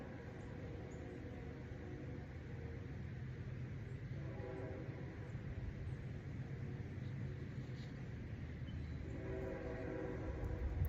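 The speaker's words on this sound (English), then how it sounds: "I live by a train track and there's a train coming." A train rumbles steadily nearby with a constant low roar, growing slightly louder toward the end; no voices.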